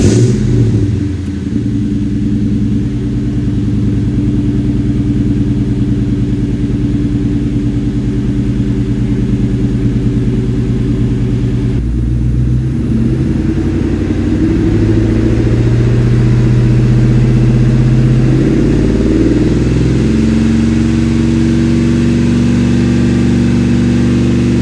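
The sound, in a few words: Ford Mustang engine with Borla Stinger exhaust, cold start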